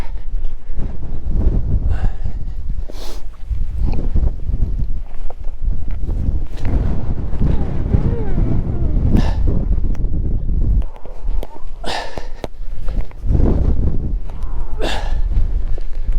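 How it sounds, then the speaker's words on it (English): Strong wind gusting across a mountain ridge on La Concha above Marbella, a heavy, continuous buffeting roar on the microphone that swells and dips through the gusts. "As soon as I get up and go across this ridge, it's windy"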